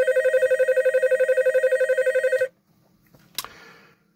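Old telephone bell triggered through its ringing control wire, rattling in a loud rapid continuous ring for about two and a half seconds, then stopping abruptly, followed by a sharp click and quiet handling noise.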